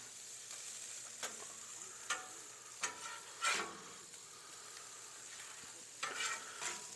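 Deer neck birria tacos fry in oil in a pan, a soft steady sizzle with a few sharp crackles and spatters rising above it.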